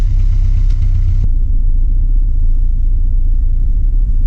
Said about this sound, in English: There is a hole in the exhaust. You can kind of hear it.